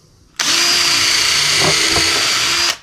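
A power drill bores a hole into timber for a flag pole, one continuous high whine lasting about two seconds, close and loud, with a slight change in pitch as the bit bites into the wood.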